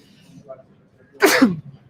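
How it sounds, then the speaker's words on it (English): A single loud, close sneeze from a person speaking on a live broadcast, bursting out sharply after a brief quiet stretch of faint background sound. "and I sneeze as well"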